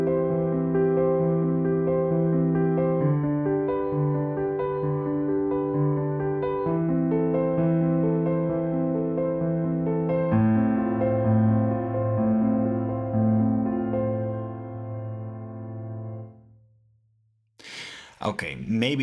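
A chord progression using inversions, played together with its bass line, with rich sustained chords changing every couple of seconds over a moving low line and a final held chord that fades out, followed by a brief noisy burst at the end.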